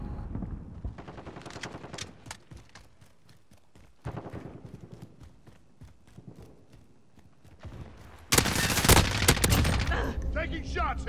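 Rapid bursts of automatic gunfire crackle in Call of Duty: Modern Warfare (2019), with steady repeating shots, brief pauses and a much louder, denser barrage near the end, all fairly close and with no voices over it.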